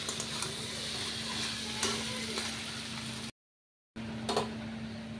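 Chunks of ash gourd fry in oil in a pan, browning on the skin side, giving a steady soft sizzle with occasional stirring clicks and a faint constant hum beneath, briefly cutting to silence before resuming.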